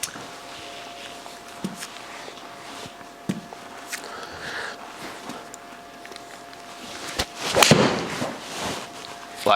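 A Titleist T350 iron strikes a golf ball with one sharp, crisp impact late on, followed by a brief flurry of noise; quieter scuffs and small ticks come before it, with no talk.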